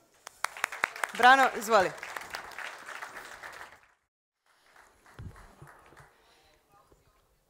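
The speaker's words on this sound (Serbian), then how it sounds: "hajde, pozdravimo aplauzom" Audience at the Hipkon Lajt 2021 conference applauding a speaker being introduced, a dense burst of clapping lasting a few seconds with a voice over it, then a short spoken line after it fades.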